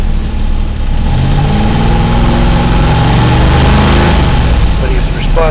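A Mercury Comet GT V8 with Flowmaster mufflers idles and revs up close, a deep throbbing rumble with rising engine pitch toward the end, with someone talking over it.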